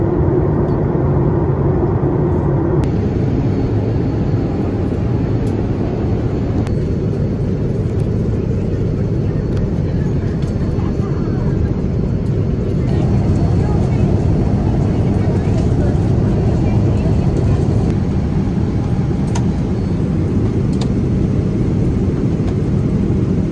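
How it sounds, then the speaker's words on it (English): Steady loud roar of aircraft engines at Amsterdam airport, a continuous broad rumble that shifts slightly in tone over time, close and dominating with no clear voices. "I'm in the Amsterdam airport"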